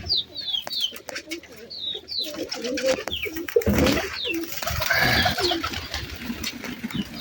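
Pet pigeons cooing repeatedly, with overlapping soft throaty coos close by, a few higher chirps from other birds, and rustling and handling noise partway through.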